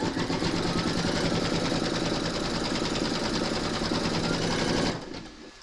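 An embroidery machine stitches batting onto hooped fabric in a fast, loud, rhythmic mechanical rattle that runs steadily for about five seconds, then stops abruptly, leaving a faint quiet tail.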